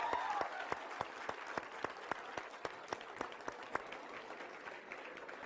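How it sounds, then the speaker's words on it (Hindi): Studio audience applause welcoming comedian Kapil Sharma in a television news studio, steady sustained clapping from a crowd with sharp individual claps standing out throughout. "तालियों के साथ स्वागत कीजिए"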